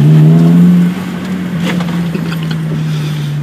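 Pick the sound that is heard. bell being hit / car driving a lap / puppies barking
car driving a lap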